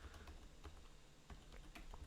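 Text is typed on a computer keyboard as a quiet run of quick, irregular key clicks, close but faint.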